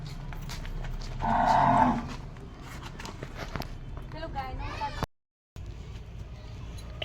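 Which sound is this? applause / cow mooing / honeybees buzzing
cow mooing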